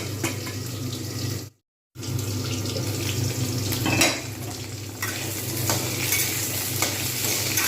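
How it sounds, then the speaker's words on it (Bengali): Potatoes fry in oil in a pan alongside flat beans and cauliflower, a steady close sizzle with stirring scrapes, broken by a short moment of silence before the frying sound resumes. "আলুগুলো একটু ভালো করে ভেজে নেব ঢাকনা দিয়ে দেবো"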